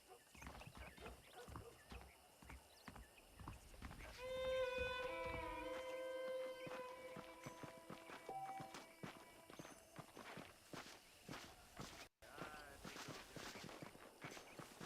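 Horse hooves clip-clop at a walking pace in the video game Red Dead Redemption, with a saddled horse moving steadily at moderate volume under game music and a brief voice.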